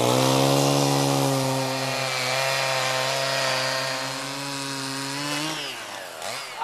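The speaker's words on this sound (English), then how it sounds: "let's take this chainsaw and square off this edge." A chainsaw squaring off the edge of a wooden log being shaped into a 12-inch cube, a loud, steady, buzzing whine held for several seconds before it slows and dies away near the end.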